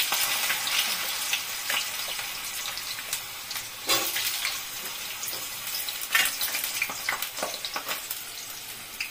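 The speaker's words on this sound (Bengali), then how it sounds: "এখন আমি জিরাটা ছেড়ে দিচ্ছি। আলুটা ছেড়ে দিচ্ছি।" Potatoes and cumin seeds dropped into hot oil in a pan, already darkened dried chillies in it, give a steady close sizzle and crackle with bursts of spitting and stirring, no talk.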